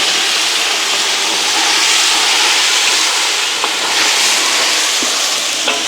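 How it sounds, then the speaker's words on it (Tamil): Onion, green chili and potatoes sizzle and fry in a pan in a village kitchen, a steady loud hiss with occasional faint clinks of stirring throughout. "வெங்காயம், பச்சை மிளகாய் வதங்கிட்டு எங்களுக்கு உருளைக்கிழங்கு போடுங்கம்மா"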